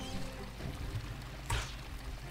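Water pours steadily into a container in the Tomb Raider IV: The Last Revelation Temple of Horus level, a continuous splashing wash with a brief louder gush about two thirds of the way through.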